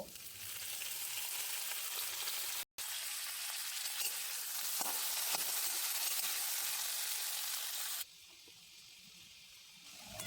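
Cashews fry in a pan with ginger, green chili and tomato, making a steady, soft sizzle that cuts out for a moment and turns quieter near the end.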